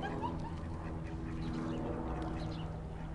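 Ducks quack while squabbling over a piece of bread, several birds calling over one another in a steady outdoor hubbub with a low background hum, no voices.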